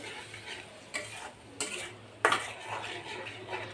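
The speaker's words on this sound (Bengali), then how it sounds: "তো এখন টমেটোটা কষিয়ে নিব।" Tomatoes being sautéed and stirred in a pan for a Bangladeshi pangas fish meal, with three or four sharp utensil scrapes and clinks over a low steady sizzle.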